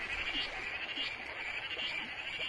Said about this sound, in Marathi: पावसाला संगीत द्यायला बेडूक प्रजातीही सज्ज झाली